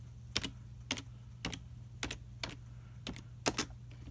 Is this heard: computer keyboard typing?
yes